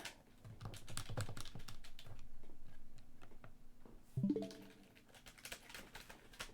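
Fingers type on a computer keyboard, a fast irregular patter of close key taps in bursts, then a sharper clatter and a few scattered presses fading out, with no talk.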